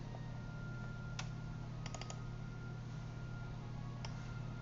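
A few faint mouse clicks on a computer, one alone, then a quick double-click cluster, then another single click, all over a steady electrical hum with no talk.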